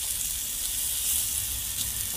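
Chicken grilling in a pan gives off a steady, close sizzle and crackle of frying fat, constant and unbroken throughout, with no talk.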